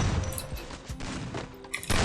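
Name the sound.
gunfire in a video game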